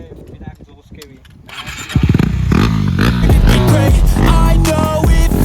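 A Duke 390 or Pulsar 125 motorcycle engine with no exhaust fitted starts up loud and close, settling into a rough, throbbing idle with clattering pulses, while a voice talks over it.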